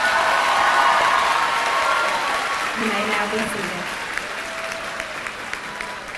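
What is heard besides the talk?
applause at a graduation ceremony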